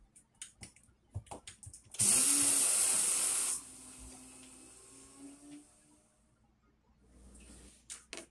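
An electric grinder grinds soaked rice into flour. It starts after some light clatter, roars loudly for about a second and a half, then winds down to a fading hum, with faint handling noises afterward.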